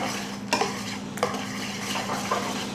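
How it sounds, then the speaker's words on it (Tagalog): A utensil mixes warm milk into mashed banana for cake batter in a bowl, with a soft wet swishing and a few clinks against the side, close and alone. "lagay na natin yung ating milk, warm milk. Yan. Mix lang natin."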